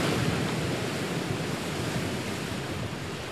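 Sea waves wash continuously along the shore after heavy rain, a dense, steady roar with no breaks or distinct crashes, alone and moderately loud throughout.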